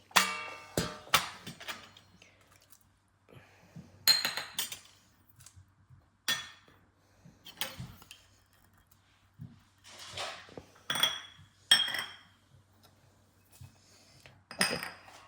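A spoon clinks and scrapes against a bowl while yogurt marinade with spices is stirred for air-fryer tandoori cauliflower, a series of sharp irregular taps and short scraping strokes spread over a quiet kitchen background.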